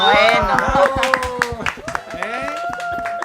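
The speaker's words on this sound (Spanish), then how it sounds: "Por aquí un aplauso para nuestra hermana Erika y nuestra hermana Celina." Studio audience clapping for two guest women on a Christian praise TV show, scattered sharp claps mixed under loud, continuous host speech and music-like tones.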